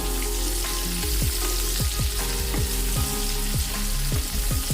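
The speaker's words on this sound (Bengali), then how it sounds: "তারপরে সতে করে নিন।" Food sautéing in a frying pan for a Bengali dish gives a dense, constant sizzle and crackle, with a rhythmic series of scraping, thumping strokes as it is stirred.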